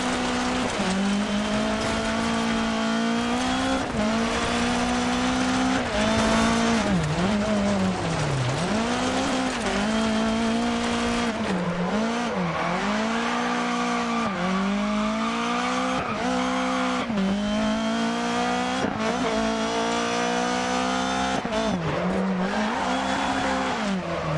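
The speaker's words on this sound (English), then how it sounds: "Being front wheel drive, these cars don't necessarily do exactly what you'd like them to do on the dirt" A front-wheel-drive rally car racing on dirt in Dirt Rally 2, loud continuous engine revving up and down through gear changes with tire noise, steady and close throughout, no talk.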